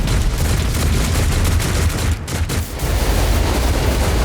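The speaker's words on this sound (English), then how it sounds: "Tarantula turrets." Tarantula turrets firing in Warhammer 40k Rogue Trader, a dense, loud burst of rapid gunfire and booms that runs continuously, with a brief dip midway before resuming.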